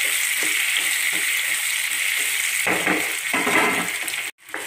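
Chopped gooseberries frying in hot sesame oil after mustard seeds have popped, for a gooseberry pickle; a steady, close, dense sizzle runs throughout with occasional stirring scrapes.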